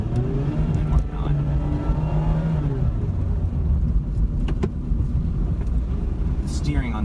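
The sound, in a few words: Mazda Miata RF engine in sport mode while paddle shifting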